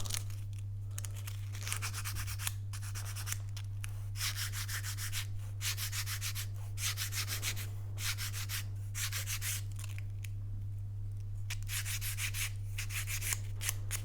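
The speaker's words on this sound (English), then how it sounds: "This is just a little bit of sandpaper, 180." A strip of wood for a classical or flamenco guitar rosette is rubbed with 180-grit sandpaper in steady back-and-forth strokes, each a close, hissing scrape, over a constant low electrical hum.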